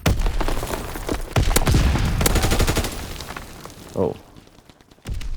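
Dense machine-gun fire and rattling gunshots in Call of Duty: WWII combat, loud and continuous for several seconds before thinning out, with a short exclamation from a man.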